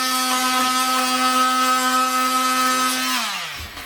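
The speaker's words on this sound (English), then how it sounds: "So all I'm going to do is I'm going to take an oscillating saw" Oscillating saw cutting vinyl plank or laminate flooring for a T-molding: a loud, steady, high buzzing whine held for about three seconds, then winding down as the blade stops, with no talk.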